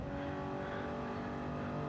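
A Toyota Supra race car in a racing video game roars past, its engine loud and steady, a dense continuous drone for under two seconds with no talk.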